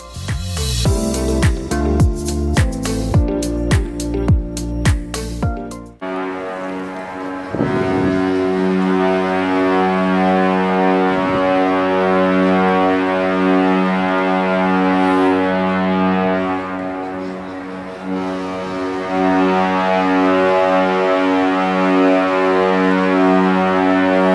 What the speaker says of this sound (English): here we can hear our ship's horn one last time